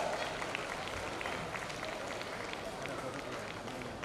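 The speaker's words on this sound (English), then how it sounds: "let's give them another huge round of applause" A crowd of parents applauds steadily at a kindergarten graduation ceremony, many hands clapping together in a dense, continuous wash that holds the same level throughout.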